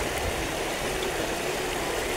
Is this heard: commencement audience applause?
no